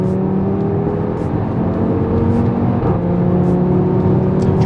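Audi RS3 pulling hard at full throttle, a loud, close engine note climbing steadily in pitch, with one brief dip near the middle as a gear change cuts in before it climbs again.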